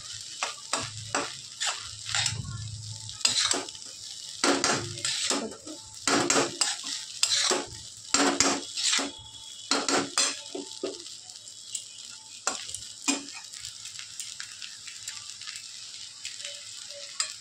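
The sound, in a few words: stirring egg chicken chow mein frying in pan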